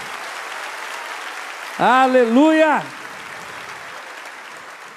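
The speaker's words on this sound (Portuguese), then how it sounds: "Você pode aplaudir a Jesus bem forte, amém?" A crowd at a church youth conference applauds for Jesus with steady, sustained clapping throughout, while a single voice shouts briefly above it.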